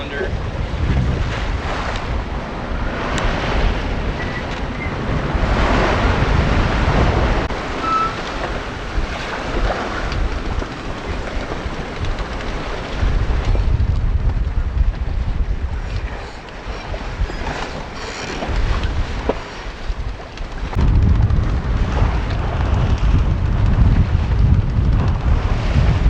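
Wind-driven waves wash over the bow of a small sailboat fitted with a Torqeedo electric outboard on a blustery day, with a loud, continuous rush of water and heavy wind buffeting the microphone throughout, surging in bursts.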